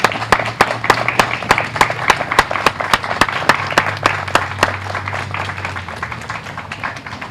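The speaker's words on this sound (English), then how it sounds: "applaud these veterans" A standing audience at a 2013 Veterans Day ceremony applauds the veterans, with sharp, fairly close individual claps punctuating a dense clapping bed and a low steady hum running under it, no speech.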